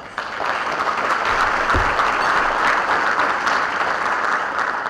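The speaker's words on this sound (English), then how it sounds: "please giving our staff a warm round of applause" An audience at a school district education event gives the staff a warm round of applause: dense, sustained clapping from a large crowd, loud and even from start to finish.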